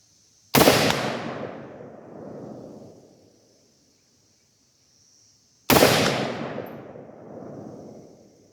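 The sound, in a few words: rifle shots, .223 55 grain soft point ammunition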